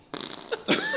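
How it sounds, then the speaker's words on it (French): A fart bursts out amid a rowdy group of young people in a reaction setting, a short broad rasp followed by another louder blast near the end, heard close and loud. "T'as pété?"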